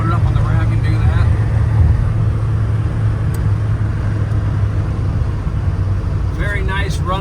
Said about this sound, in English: Very nice running and driving truck.